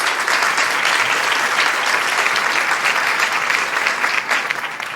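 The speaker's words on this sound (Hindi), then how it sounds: "जोरदार तालियों से आयुषी राखेचा का स्वागत करें हम" At a Hindi kavi sammelan, the audience gives poet Aayushi Rakhecha a loud, sustained burst of applause, full and close, with a thick, steady clapping texture that eases slightly at the end.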